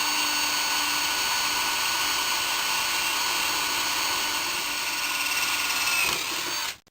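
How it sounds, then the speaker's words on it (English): Power drill boring through seized bolts on a Norwalk juicer, a continuous high whine that runs steady and loud for several seconds before the motor cuts off abruptly at the end. "you also want to drill through and then tap new threads"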